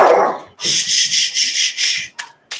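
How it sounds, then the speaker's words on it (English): A dog barks several times in quick succession, loud and close, followed by a couple of short yips, with no talking over it. "It's like she just barks on purpose."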